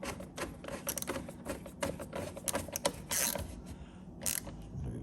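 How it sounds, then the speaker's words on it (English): Ratchet wrench snugging down bolts during a camera install on a Smart Car 453 Electric Drive, a rapid run of clicking ratchet strokes in short bursts with brief pauses, close and fairly quiet. "What they do now is snug down these bolts"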